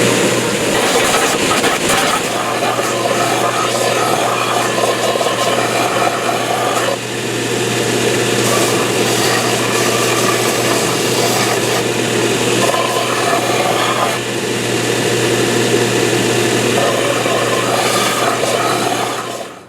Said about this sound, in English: just use the belt sander like all those 50s and 60s Fenders